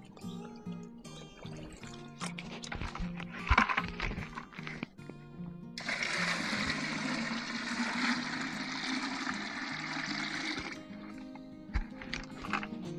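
Water pouring and being stirred into a nutrient mix in a bucket for stressed bird's-eye chili plants, with splashy handling noises first and then a sustained rushing pour, close by.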